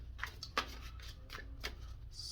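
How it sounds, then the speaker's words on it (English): A deck of tarot cards is shuffled by hand with soft, quiet riffles and papery slides, a handful of brief bursts spaced unevenly over a low background hum. "I'm going to go ahead and shuffle"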